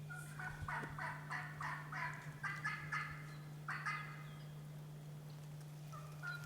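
Wild turkey gobbling repeatedly in reply to a mouth call, several rattling gobbles at moderate distance over a steady low hum, then quieter.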